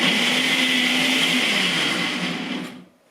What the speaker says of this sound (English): I'm gonna give this a whiz up in my Ninja with the blender